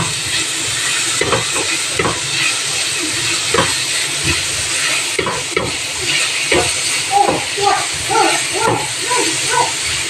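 Chopped onions frying in a pan for spaghetti sauce, a loud steady sizzle and hiss with intermittent scraping and stirring knocks from a utensil, continuing throughout without talk.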